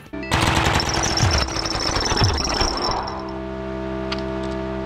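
Weapons fired in the video game Cruelty Squad, a loud close burst of rapid, harsh automatic gunfire rattling for a few seconds before fading into a low ringing hum.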